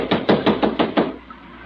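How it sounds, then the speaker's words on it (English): Radio drama sound effect of a fist pounding on a door, six heavy rapid knocks in quick succession, loud and close, then a brief quiet tail. "He's pounding on that door, Myra."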